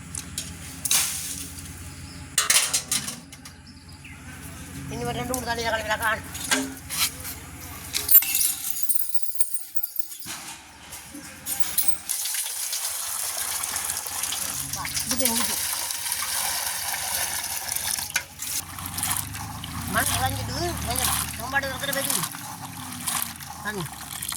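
Cooking pots are washed by hand with water in a village setting, with splashing, trickling and clanking metal in irregular bursts while people talk throughout.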